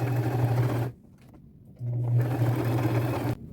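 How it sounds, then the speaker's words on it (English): Sewing machine running a large zigzag stitch on dress fabric with gold thread, loud and close, a steady droning hum in two bursts separated by a quiet pause. "I'm going to go to my machine and sew them on."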